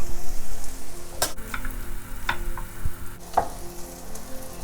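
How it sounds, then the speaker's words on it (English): Onion fries in a pan with a soft, continuous sizzle, broken by a few sharp clicks and knocks from utensils against the pan. "While the onion is cooking"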